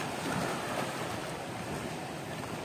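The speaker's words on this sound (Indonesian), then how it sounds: "Lidah ombaknya menyambar-nyambar" Indian Ocean waves break against sharp coral cliffs in a steady, dense roar of surf with wind noise on the microphone, continuous and fairly loud.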